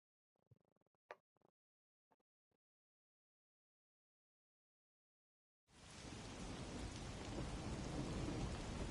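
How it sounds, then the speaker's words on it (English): Rain and thunder from the video game Rain Code burst in after a few quiet seconds and soft taps, becoming a dense, loud, steady downpour with rumbling that fills the rest. "The faint sound of a ticking clock melts against the sound of rain."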